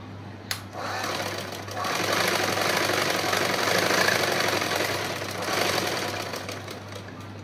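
A sewing machine stitches a princess cut pattern for a boat neck blouse. A close, steady mechanical whir swells to a faster run in the middle before easing off, with a sharp click near the start.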